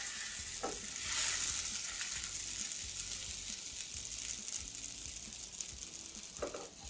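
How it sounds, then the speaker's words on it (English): Potato masala patties roasting in a pan with very little oil give a steady, quiet sizzle and crackle, with a few faint scraping touches and no talk. "I've used very little oil to roast these patties"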